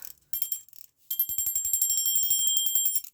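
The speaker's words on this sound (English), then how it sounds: "Nice clear bell actually." A 1946 Parnall Yate alarm clock's bright mechanical bell rings in a short burst, pauses, then rattles rapidly and continuously for about two seconds before cutting off.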